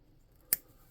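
Scissors snip the ends off small pieces of a handmade tabletop game figure, one crisp quick cut in an otherwise quiet room.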